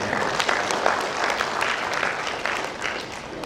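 An audience at a 2016 STMIK Mahakarya undergraduate graduation ceremony gives sustained, moderately loud applause, with individual claps standing out throughout.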